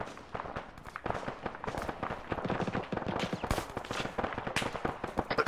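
Sharp, rapid gunshots crack in irregular bursts and single rounds during an urban firefight in the military shooter Arma 3, some near and some distant, with no talking.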